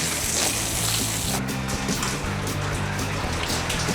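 Water from a hose sprays onto the roof of a newly built home during a leak test, making a loud, constant rushing hiss like heavy rain, with a low hum underneath.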